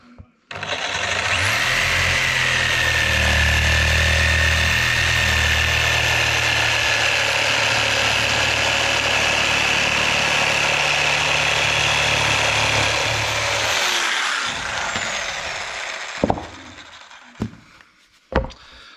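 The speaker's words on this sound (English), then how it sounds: "It's just a matter of get our jigsaw and cut along the line." A jigsaw cuts steadily through a sheet of rubber along a marked line, a loud continuous buzzing drone lasting about fourteen seconds before it stops, followed by a few faint knocks and handling sounds.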